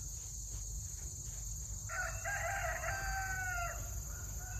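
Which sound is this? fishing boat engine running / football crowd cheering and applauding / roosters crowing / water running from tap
roosters crowing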